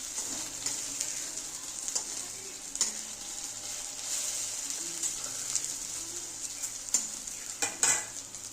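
Egg and potato fritters hiss in hot oil with a dense, continuous sizzle, close up, with a few light utensil clinks scattered through and no voices.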